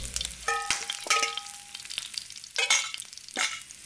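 Curry leaves, dried chillies and garlic fry in hot oil with sharp crackles and spatters, a few bright pops followed by a steady, close sizzle.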